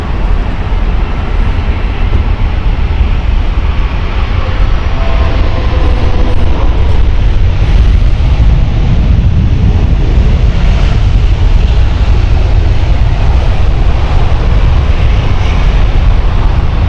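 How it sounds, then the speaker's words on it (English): An Airbus A319 on the Newcastle shuttle at Heathrow, a loud, continuous jet roar with heavy low rumble holding steady and building slightly midway, no speech over it. "Newcastle flight next, shuttle 13 hotel. Airbus A319 here."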